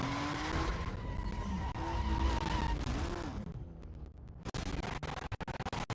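A race car in Need for Speed: Most Wanted (2005) screeches through a long tire skid on a circuit race, the squeal sliding in pitch over roaring engine noise before a burst of rattling impacts.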